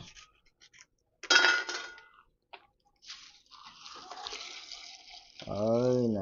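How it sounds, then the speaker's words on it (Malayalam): Milk pours into a pot for aval milk, first a brief splash, then a longer steady trickling pour. A voice speaks at the very end. "നമ്മൾ പാൽ ഒഴിക്കാണ്."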